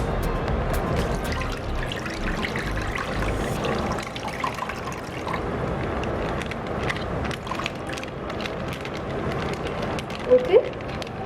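Milk is poured from 500 ml packets into a container in a continuous trickling, splashing stream that lasts the whole stretch, close and even, with a couple of small knocks near the end.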